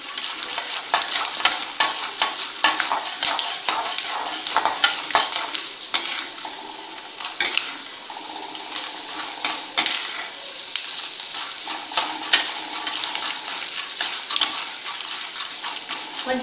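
A tempering sizzles in hot oil in a pan while a utensil stirs it, producing continuous crackling and frying with intermittent scraping and clinking of metal, close and fairly loud, with no talking.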